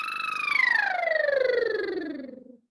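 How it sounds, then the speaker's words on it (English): A buzzing lip trill glides smoothly downward in pitch over a couple of seconds, voiced and steady, like a falling siren, then fades out. "We're gonna do the siren again, down, up, down, but we're gonna use our lips this time."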